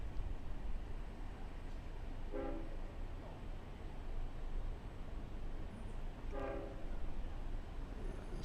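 A Long Island Rail Road train approaches through a Westhampton crossing, its horn giving two faint distant blasts several seconds apart over steady broadband outdoor noise and rumble.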